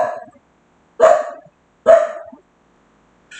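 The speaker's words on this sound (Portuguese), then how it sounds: "Eu falei para vocês que podia ter cachorro latindo." A dog barks three times in short, sharp bursts spaced about a second apart, fairly close and clear against silence.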